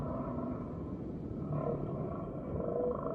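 A humpback whale and her calf vocalize in a continuous, low, moaning wash with rumbling undertones, steady in level throughout with no speech.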